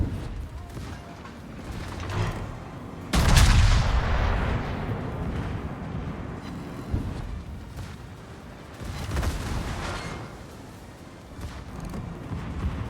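Heavy naval guns firing from warships in World of Warships, with the Massachusetts battleship in play; one loud booming salvo followed by a long rumbling decay, then softer distant shots and mechanical battle noise.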